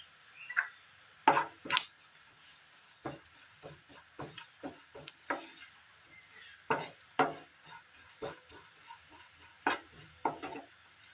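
Chili and turmeric powder roast in a pan, heard as quiet scattered scrapes and taps of stirring against a near-silent background, with no sizzle to speak of and no voices.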